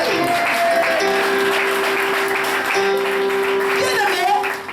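A church congregation applauds and acclaims the Lord in a continuous wash of clapping and cheering voices that swells near the end.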